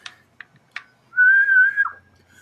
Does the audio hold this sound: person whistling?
yes